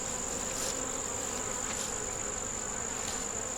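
Honeybees buzz steadily around hives at a South Carolina apiary beside a grapevine, a continuous close hum with a thin high tone running throughout and no voices.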